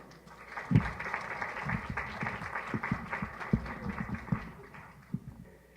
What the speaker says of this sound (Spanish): con un fuerte aplauso le damos la bienvenida